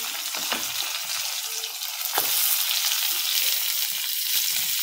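Onions, ginger and garlic sizzle in hot oil in a home kitchen, a steady close hiss that swells louder partway through, with a few knocks and scrapes of stirring.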